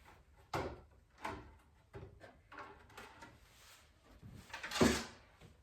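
Old 1980s wooden cabinet doors handled during a house renovation, giving a series of soft knocks and thuds spaced about a second apart, ending in a sharper clatter.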